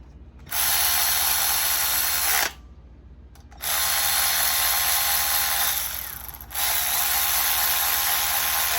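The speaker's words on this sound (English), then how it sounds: "I'm going to start with just hand tightening some of them in there." A hand ratchet tightens transmission bolts on a JZX100 with an R154 gearbox, three long stretches of fast, steady clicking broken by brief pauses, close and loud.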